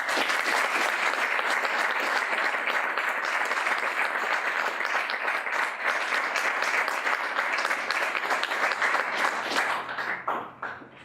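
Sustained, loud audience applause at a Tiffin University Veterans Day ceremony welcomes Jenna Grassbaugh, a dense wash of clapping that holds steady for about ten seconds and then thins out and fades near the end.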